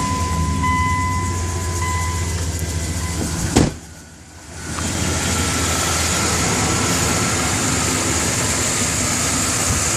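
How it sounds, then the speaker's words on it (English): Engine of a 2001 Dodge Ram 1500 pickup idling after a belt and tensioner pulley replacement, a steady low rumble with a brief knock and dip partway through, then settling back into an even run. "Let's go ahead and start up the engine and see how it sounds."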